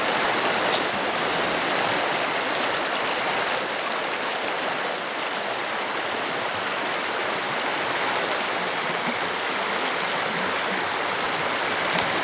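A river in rural Kinross, Scotland, flows through deep water and pools with a continuous, even rushing roar, close and steady throughout, with no voices.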